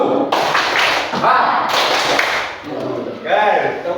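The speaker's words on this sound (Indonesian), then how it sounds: "Tepuk 1. Tepuk 2. Tepuk 3." A class of children claps in counted groups, sharp overlapping taps bunched in ones, twos and threes, with a teacher's voice calling the counts between them.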